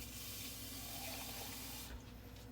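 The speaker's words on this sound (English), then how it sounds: "what I normally do is I get a can and I fill it with water" Tap water running steadily into an empty can while making cowboy soup, a continuous hissing splash that cuts off near the end; no talking.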